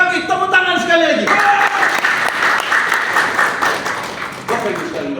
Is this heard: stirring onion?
no